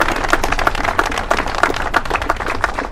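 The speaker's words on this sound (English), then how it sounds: "So let's applaud." A crowd at a community wall-raising event for a carpentry program applauds, steady dense clapping from many hands, loud and close, with no voices over it.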